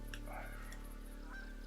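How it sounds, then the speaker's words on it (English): Geese honk in theHunter: Call of the Wild in the Hirschfelden reserve, a few short nasal calls heard at a moderate distance over a steady hum of ambient noise. "Now, the geese, they are coming."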